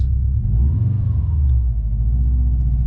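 A Subaru WRX engine runs after a fuel filter change, a steady low rumbling idle close to the microphone, continuous and even for a few seconds with no talk.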